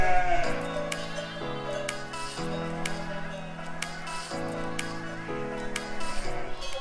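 Rams and ewes bleat repeatedly at a farm, several loud overlapping calls in a steady run with barely a pause between them, a few voices near and others farther back.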